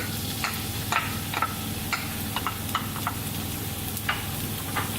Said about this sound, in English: We're going to add the ghee, as well as the ginger and garlic